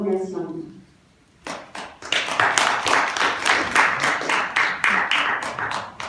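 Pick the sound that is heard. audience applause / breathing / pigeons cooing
audience applause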